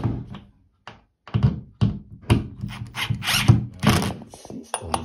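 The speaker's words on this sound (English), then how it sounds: "Screw this back." A bathroom towel rack fitting being screwed back into place, giving a series of close, sharp mechanical clicks and thunks in irregular bursts with brief pauses between them.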